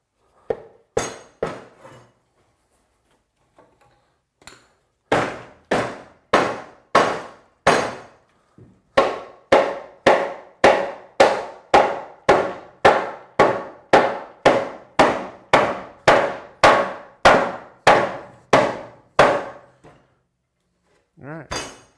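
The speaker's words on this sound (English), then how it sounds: "Let's see if we can hammer it home." A wooden mailbox post is driven into place with a hammer, and the steady, loud, ringing blows come in a long run with short pauses between them. Faint rustling is heard in the gaps.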